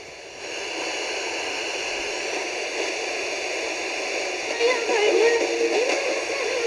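Steady hiss of radio static fills a shortwave-style receiver fitted with a modified antenna while tuned to a distant station from Nepal, a faint warbling signal rising out of the noise near the end.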